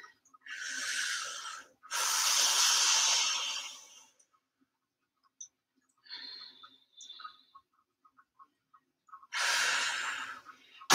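Loud, close breaths during a HIIT workout cool-down: long rushing inhales and exhales in separated bursts, with quiet gaps and small mouth sounds between them.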